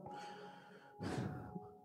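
A voice imitates the breathing of someone asleep: a quiet drawn-in breath followed by a heavier, louder exhale, close and alone.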